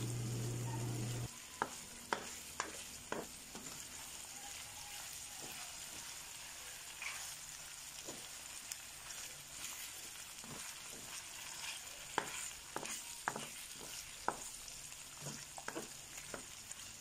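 Pork adobo with pineapple sautéing in a pan, a low steady sizzle with scattered clinks and scrapes of stirring spread through, fairly quiet and close, with no talking.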